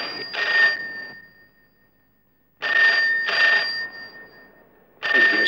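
An old telephone bell rings loudly and close by, in long repeated bursts separated by short pauses, with no talking over it.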